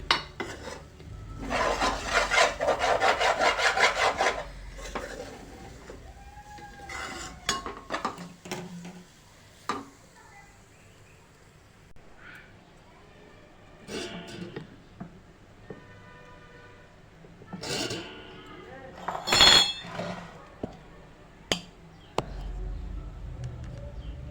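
Grated coconut and jaggery are stirred in a pan for laddu, making intermittent rasping scrapes and clinks of a spoon against the metal, loud in bursts with quiet gaps between.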